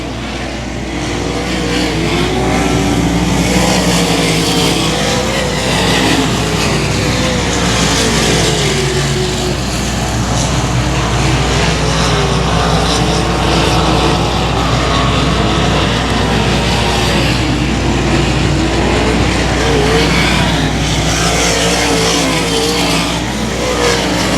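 Stock cars race at 281 Speedway during a Factory Stock event, a continuous loud roar of engines revving and droning past for the whole stretch, dense and sustained with no talk heard.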